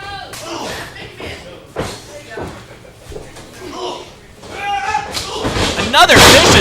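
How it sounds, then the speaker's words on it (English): In a wrestling match, thuds and slams of strikes and bodies hitting the ring ring out loud and close, with crowd noise swelling near the end and a commentator talking throughout. "Another vicious kick to the back of the head."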